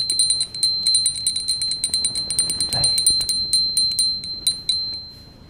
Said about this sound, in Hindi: घंटी बजाते हुए।